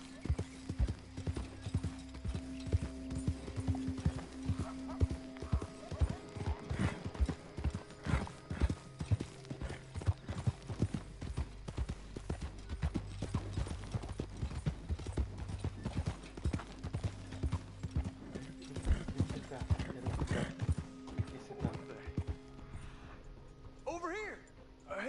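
Horse hooves clip-clop steadily in a video game, rhythmic and fairly close, with occasional neighs and whinnies, and people talking over the sound throughout.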